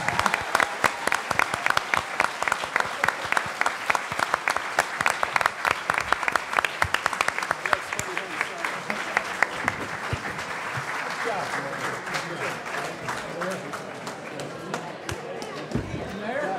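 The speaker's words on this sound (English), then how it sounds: "you may all now applaud for the candidates" Audience applause after a 2015 Hartford mayoral debate, a sustained burst of many hands clapping close by, steady and dense throughout before gradually thinning toward the end, with some voices mixed in.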